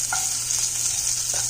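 Mustard seeds, dried chili and curry leaves sizzle in hot oil for a tomato rasam tempering, giving a close, steady frying hiss with a few soft pops and stirring clinks.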